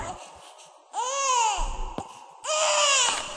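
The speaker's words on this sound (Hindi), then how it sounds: "बच्चा रो रहा है." Infant crying from the horror video game Infliction: two drawn-out wailing cries with a short gap between them, loud and close, with a faint sharp knock in between.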